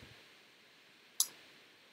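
A single sharp computer mouse click, close and brief, standing alone against a faint steady background hiss.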